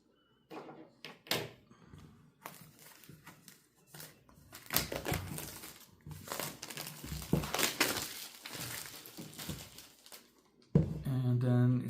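A blade cuts through the packaging seal of a DJI Osmo Pocket 3 Creator Combo box at close range: crinkling plastic, scraping and soft thunks that build steadily before a louder rustle at the end.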